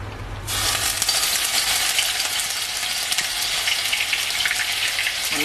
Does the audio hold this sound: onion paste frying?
yes